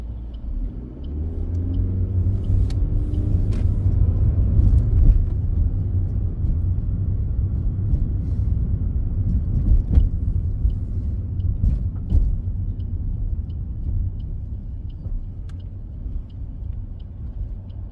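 A car drives along a town road on a driving test route in Hull, giving a low, steady engine and road rumble throughout, with a few faint clicks and small bumps standing out over it.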